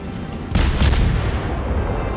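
A heavy boom of naval artillery rings out in a World of Warships battle, striking sharply after a quiet moment and then rolling into a long, loud rumble that fades only slightly.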